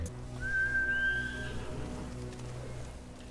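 In Ghost of Tsushima, a short clear whistle calls a horse, one rising tone over a low ambient game drone, followed by soft fading sounds with no talk.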